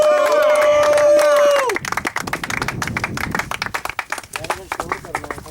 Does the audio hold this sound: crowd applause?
yes